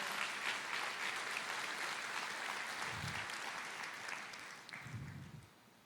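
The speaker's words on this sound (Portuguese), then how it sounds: "Aplauda." A church congregation applauds during a sermon, a sustained wash of clapping from many people that gradually thins and fades toward the end.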